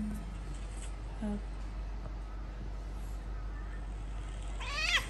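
A cat meows at a vet clinic during a vaccination visit, giving a short, fairly close cry near the end over a steady low background hum, with a fainter earlier meow-like call.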